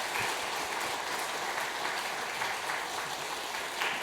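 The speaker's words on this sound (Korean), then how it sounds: "수료증과 선물을 드릴 때 박수로 축하해 주시기 바랍니다." A church congregation at a Sunday worship service claps in congratulation, a soft, even patter of many hands that continues for a few seconds at moderate distance.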